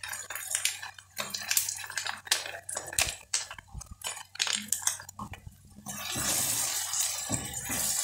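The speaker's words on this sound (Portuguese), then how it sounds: "Aqui vou colocar o molho de tomate." Tomato sauce goes into a pan of chicken stroganoff amid scattered clinks and scrapes of utensils, ending in a soft, sustained wet pouring wash, nearby and moderately quiet.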